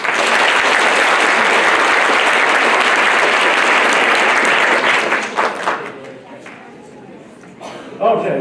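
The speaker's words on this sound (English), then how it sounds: "You want to clap again?" A science-event audience gives a long burst of loud, dense clapping that lasts about five seconds and then trails off into scattered claps and quieter murmuring voices.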